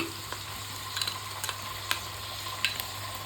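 Soy sauce and red chilli sauce stirred into a hot frying pan for paneer fried rice, a steady low sizzle with scattered scrapes and taps of the spatula, close by and without speech.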